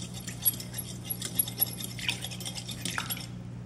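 Dye mixture stirred for a coffee-filter flower craft, giving soft, close scraping and clinking in quiet, irregular strokes with a few sharper taps.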